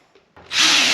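A power drill spins up to back out screws from the rear panel of an Electrolux dryer, a short loud whine that starts abruptly after a brief quiet moment.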